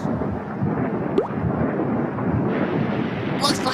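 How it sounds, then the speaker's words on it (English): Cartoon rain and thunder: a dense, steady rush of rainfall with a low rumble underneath and a brief sharp crack partway through. "Looks like it's raining, Jack."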